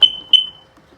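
The warning buzzer on a 1999 Sea-Doo XO Limited 951 personal watercraft gives two sharp, high electronic beeps at startup, the second ringing out briefly before silence.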